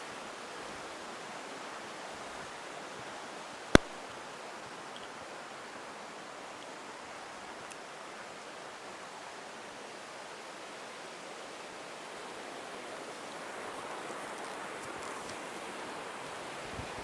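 Waterfall in a Canadian national park, a steady broadband rush of falling water heard from a distance, continuous and even throughout, with one sharp click near the start.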